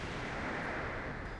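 A star explodes during the Algalon boss fight in World of Warcraft as a dense, steady, roaring blast of noise that fills the whole moment without a break.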